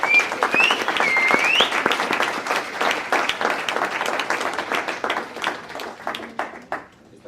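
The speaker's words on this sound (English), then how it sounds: "Can you give him a round of applause?" A film premiere audience gives the director a round of applause, loud close clapping with a few whoops at the start, thinning out into scattered claps toward the end.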